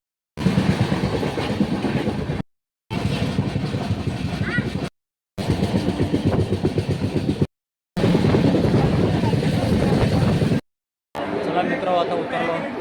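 A Mel express train runs on the rails between Thane and Kalyan, heard from inside as a loud continuous rumble with rhythmic clatter over the track, broken by short gaps, with passengers chattering throughout.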